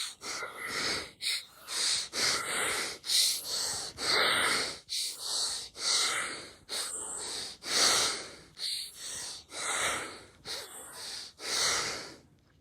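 Heavy, rhythmic panting breaths during a guided meditation in which listeners picture climbing, about a dozen loud, close, gasping in-and-out bursts at a steady pace with no talk over them.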